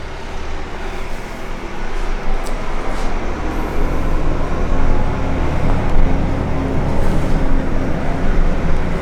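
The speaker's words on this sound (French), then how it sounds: "le propriétaire est en train de passer le tracteur" A farm tractor driving nearby on a rural manor estate, a steady low engine rumble with broad noise that holds at a constant level throughout, fairly loud and continuous with no voices.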